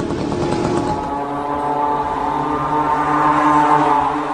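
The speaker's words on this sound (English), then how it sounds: "This is a small moped engine or scooter engine sourced from China at a cheap price. Let us look at how it sounds like." Small cheap Chinese moped-type engine of the kind used on the Shahed-136 drone, running with a steady droning buzz and a rough, continuous tone, loud and close throughout.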